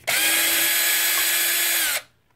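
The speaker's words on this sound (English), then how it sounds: "the power drill just makes it so much faster" A cordless power drill whirs loudly and steadily for about two seconds, then stops abruptly, while backing out the motor bolts on a Traxxas X-Maxx RC car.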